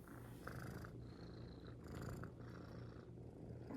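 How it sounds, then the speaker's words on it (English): A cat purrs softly and steadily up close, a low continuous rumble with no other sounds. "But hopefully you can hear Minnie purring."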